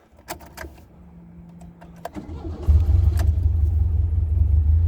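A 1976 Alfa Romeo 231 with a slightly rusty muffler: clicks and clatter from inside the car, then the engine catches and settles into a loud, steady low idle rumble that continues to the end.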